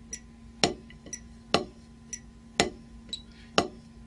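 Drumsticks play alternating doubles in a warm-up, moving from quarter notes toward eighth notes: sharp wooden strokes alternate strong and light in a steady, even rhythm, close and clear with no talking.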